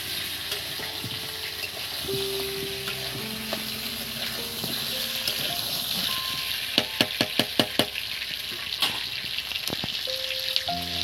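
Potato pieces frying in oil for a mutton curry give a continuous close sizzle. A burst of quick, sharp spatula scrapes and clicks against the pan cuts in near the end.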